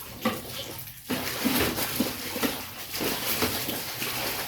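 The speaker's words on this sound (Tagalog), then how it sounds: "bago mapunta sa palanggana yung tubig na pinagbabanlawan ko, dumadaan muna sa ulo ko" Rinse water poured over a head and splashing down into a basin during a bath, a steady watery rush with repeated pouring surges and a brief pause near the start.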